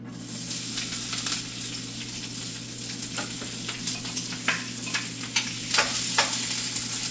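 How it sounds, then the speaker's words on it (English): Mushrooms fry in hot oil with a steady, close sizzle throughout, broken by scattered crackles and spits that grow a little busier toward the end. "I love the smell of fried mushrooms."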